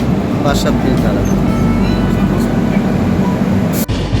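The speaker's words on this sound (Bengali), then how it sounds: "আমাদের ট্রেনটা বিজয়নগরম স্টেশন ছেড়ে দিল" The Howrah–SMVT Bengaluru SF Express leaving Vizianagaram station gives a steady low rumble under people talking, holding level before a brief dip near the end.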